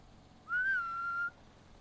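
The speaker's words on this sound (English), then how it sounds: "Whistling at my dogs." A person whistles a single sustained, slightly rising then level tone lasting under a second, clear and fairly close, calling dogs outdoors with light background hiss and no talking.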